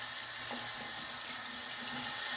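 Steady broadband rush of water running from a tap, continuous and fairly close, with no voices.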